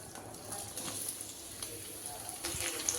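Chopped onions fry in oil in a kadai while a paneer curry is being made, giving a faint, steady sizzle with occasional soft stirring sounds.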